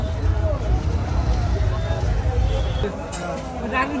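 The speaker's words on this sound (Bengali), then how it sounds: "কত মানুষজন এই মানিকগঞ্জের বেলথা ব্রিজের এই জায়গায় এই নৌকা বাইজ দেখার জন্য" A large crowd gathered along the riverbank and on Beltha bridge in Manikganj to watch a traditional boat race: a steady, dense murmur of many voices with a low rumbling wash of outdoor noise, distant and continuous.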